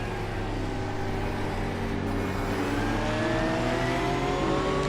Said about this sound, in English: just listen to that engine sound as well